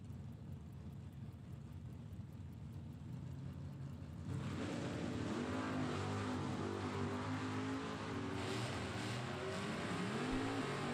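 Drag race cars, a Chevrolet Camaro and a Buick Regal, roar down a strip, heard from a distance as a sustained engine drone that swells sharply partway through and holds loud, with wind buffeting the microphone.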